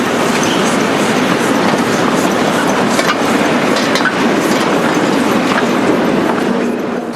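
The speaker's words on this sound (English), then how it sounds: "the loco pulls away, leaving the wagons to roll towards the unloading shed after a quick throw of a point lever" Uncoupled railway wagons rolling by gravity toward an unloading shed, a loud continuous rumble with rhythmic wheel clatter and faint squeals, steady and close throughout.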